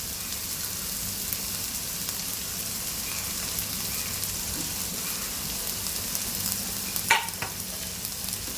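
Rice with carrot, beans, onion and capsicum is stir-fried in a pan with a steady, close sizzle and hiss, with a few sharp scraping clinks of the spatula near the end.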